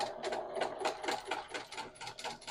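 A sewing machine stitches fabric with a double needle in a rapid, steady mechanical whir with rhythmic pulses from the needle strokes, close and continuous for the whole stretch.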